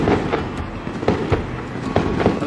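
Fireworks going off nearby outdoors beside a remote desert road, a rapid irregular series of sharp cracks and bangs over a steady rumbling background, with no talk.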